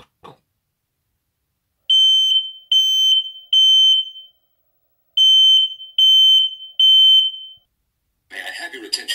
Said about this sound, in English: going to pull down the fire alarm.